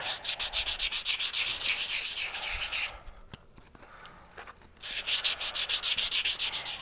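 Sandpaper of 320 grit rubs back and forth over deeply double-etched Faux Bone, a quick run of rhythmic raspy strokes, a pause of near-quiet with a few small knocks, then the scratchy strokes resume close by.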